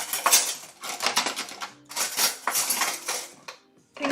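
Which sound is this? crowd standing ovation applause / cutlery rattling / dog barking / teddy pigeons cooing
cutlery rattling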